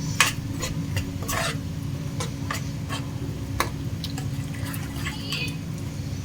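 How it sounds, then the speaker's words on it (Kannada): Spice powders such as chili powder, turmeric and garam masala being stirred into an egg gravy in a pan, giving a steady soft scraping and swishing with a faint sizzle and occasional light clinks of a utensil against the pan, with no talking. "ಇದನ್ನೆಲ್ಲ ಹಾಕ್ಕೊಂಡು ಈಗ ಮಿಕ್ಸ್ ಮಾಡ್ಕೊಳ್ಬೇಕು."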